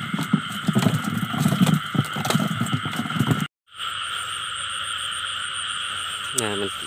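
Frogs croak at night during rain while frogs are being caught by flashlight, a dense, steady chorus under a constant wash of rain, with someone talking over the first half and a brief drop in sound partway through.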